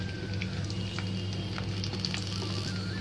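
Chopped garlic sizzles steadily in a hot pan for burnt garlic chili rice, a continuous close hiss with faint crackles and no talk.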